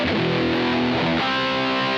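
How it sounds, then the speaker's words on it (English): A loud, sustained distorted electric guitar chord through a BOSS GT-1 effects processor rings out, changing to a new chord partway through, with a thick, saturated buzz and no voices. "If I want distortion"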